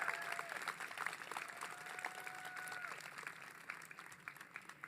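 Graduation audience at a community college commencement applauds for families and friends, a steady wash of clapping held at moderate distance for about five seconds, with faint crowd murmur and a sustained tone running beneath.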